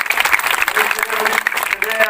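Applause for a women's group at a Buddha statue installation and vihara inauguration ceremony, a crowd clapping loudly and steadily throughout.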